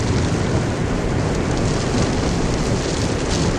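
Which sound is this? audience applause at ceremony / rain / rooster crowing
rain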